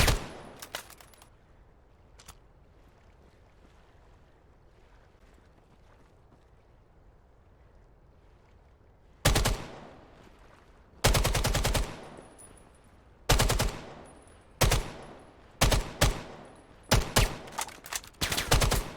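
Gunfire in a shooting video game during a 1v1 match: repeated loud bursts and single shots start after a long quiet stretch and then come in quick succession, close and punchy.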